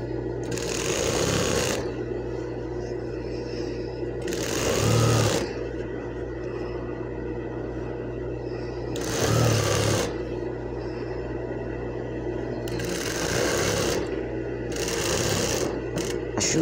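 A sewing machine stitches fabric for a sugar cut gown in repeated bursts of fast, even whirring, each a second or two long, separated by pauses filled with a steady background hum.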